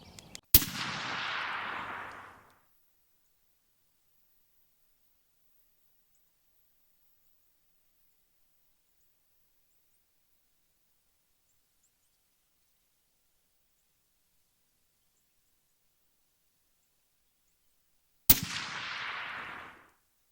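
Two sharp rifle shots from a Henry X in .360 Buckhammer fired at a 100-yard range, one at the start and one near the end, each a loud crack with a short echoing tail, long silence between.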